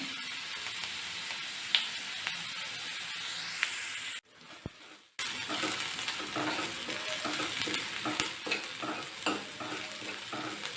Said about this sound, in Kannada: ಸ್ವಲ್ಪ ಚೆನ್ನಾಗಿ ಕೆಂಪಗಾಗೋರು ಹುರ್ಕೊಳ್ಳೋಣ